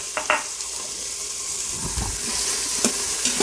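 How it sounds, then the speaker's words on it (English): Finely chopped onions are stirred and sautéed in an Instant Pot, giving a continuous close sizzle broken by a few sharp spoon taps and a scraping sweep against the pot, with no speech. "just give a quick stir, and I'm putting 2 onions finely chopped"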